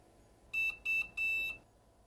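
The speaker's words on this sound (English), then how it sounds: "let this count down, and then once the timer goes off" A heat transfer press countdown timer goes off with three sharp, high electronic beeps, the last one longer, loud and close against a quiet background.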